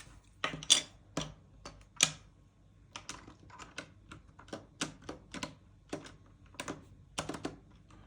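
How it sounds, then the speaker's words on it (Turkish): Keycaps are pried off and pressed back onto an inexpensive mechanical keyboard, including the shift key: irregular sharp plastic clicks and snaps, close and fairly quiet, come in uneven clusters with short pauses and no speech. "şu shift tuşunda da değiştirelim hemen hızlıca"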